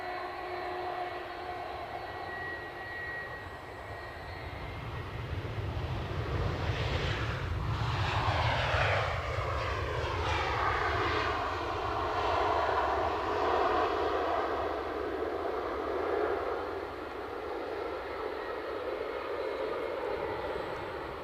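Airliners taxiing and landing at Edinburgh Airport, among them United and Delta jets, give a steady broad engine roar that swells as one passes close around the middle, then eases into a sustained rumbling whine, with no talking.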